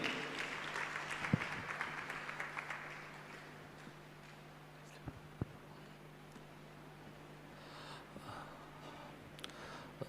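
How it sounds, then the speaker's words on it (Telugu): A church congregation at an all-night prayer service claps to welcome a speaker, a burst of applause in the first few seconds that fades to scattered claps and room noise. "చప్పట్లు కొడుతూ దేవుని సేవకుని ఆహ్వానిద్దామండి"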